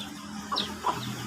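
A couple of short clucks from backyard chickens, fairly soft and a little distant, over a steady low background hum, with no talking, in Oriental Mindoro, Philippines.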